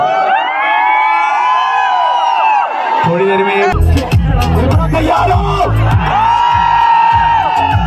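A crowd cheers and whoops at a rider meet-up, a loud burst of shouting and babble rising midway, with people talking nearby over the noise.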